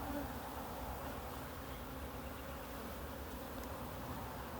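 Honey bees swarm and buzz around an open hive frame during a close-up hive inspection, a steady dense drone close to the microphone, without a break and with no talk.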